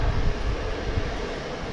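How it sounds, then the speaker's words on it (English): An American Airlines jet taking off to the north at DFW Airport, bound for San Antonio: a steady, broad engine roar with low rumble, continuous and fairly loud, with no voices over it. "this plane's going to take off to the north"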